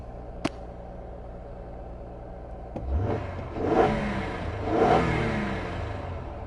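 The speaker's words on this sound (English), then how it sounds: "Car idle smooth, no check engine lights." A 2009 Acura TL engine idles with a low, steady hum, then is revved twice in quick swells before settling back to idle. A single sharp click comes early on.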